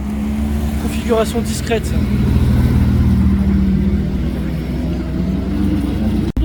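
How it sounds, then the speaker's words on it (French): A Porsche 911 GT3 RS sports car rolls past on a Monaco street, its engine a low, steady rumble close by. Someone speaks briefly over it. "GT3 RS qui passe."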